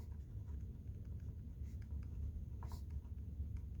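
Pen or pencil scratching on paper while a ratio is written out by hand, a steady faint scribbling that runs throughout over a low background hum, with no talk.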